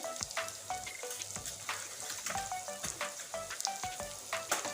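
Soybean chunks with turmeric sizzle steadily in a hot pan, punctuated by frequent close metallic clinks and scrapes as a utensil stirs them, with no voices.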